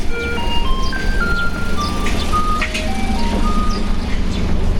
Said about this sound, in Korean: 쓰레기차가 되게 귀여운 소리를 내면서 다니네.